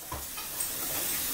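Sloppy joe mixture simmers in a pan on lowered heat, a soft continuous sizzle and hiss with faint stirring scrapes, close by and without speech.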